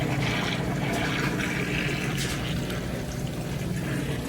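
A Kenmore Series 100 high-efficiency washing machine fills with water for its rinse cycle, giving a steady rushing flow over a low mechanical hum, moderately quiet and without any talk.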